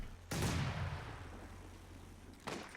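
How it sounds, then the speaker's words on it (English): Double mortars fire in the Company of Heroes 2 strategy game: a loud, booming launch whose rumble slowly decays, followed by a second, fainter thump near the end. "These double mortars going"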